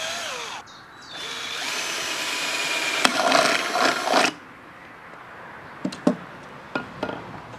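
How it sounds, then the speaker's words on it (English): A power drill whirs steadily for a few seconds boring through the middle of a metal cat food can, then cuts off, followed by a few sharp clanks and knocks. "we start by drilling a hole in through the middle of the cat food can"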